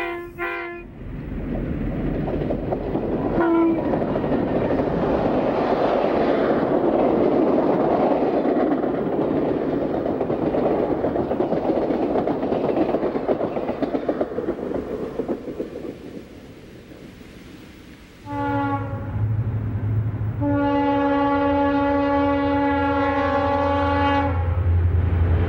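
Amtrak's train number 15, the Lone Star, rumbles past leaving Galesburg, wheels clattering. Short horn blasts sound at the start, then a long, loud multi-tone horn near the end.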